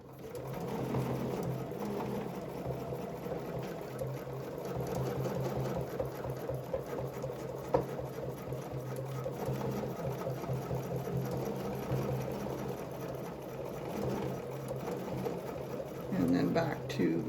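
A sewing machine runs steadily while quilting a quilt, with an even, continuous mechanical whir held close throughout and a brief rise near the end.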